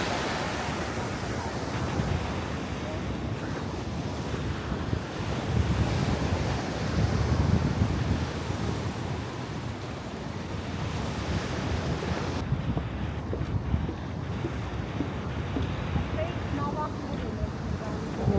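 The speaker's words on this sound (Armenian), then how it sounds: "Ալիք տալի անցնում է։" Murky sea waves wash ashore under heavy wind buffeting the microphone, a continuous broad roar with swelling surges, loud and close, while people talk over it at times.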